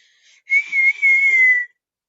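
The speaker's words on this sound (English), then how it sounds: "wait, I whistled." A person whistles a single steady, clear tone held for over a second after a brief faint start, close and loud in an otherwise quiet room.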